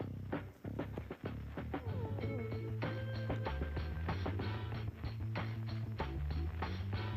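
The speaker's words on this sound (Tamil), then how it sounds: "அதனால் ஸ்ப்ரேயர் யூஸ் பண்ணுறேன்." A hand pump sprayer filled with diluted cow urine organic pesticide is used on garden plants, giving close, repeated mechanical clicks and ratcheting pump strokes with faint creaks in a steady rhythm.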